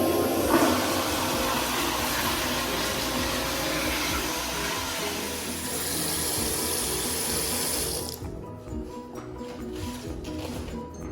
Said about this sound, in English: So this is how I'm gonna flush the toilet using my foot.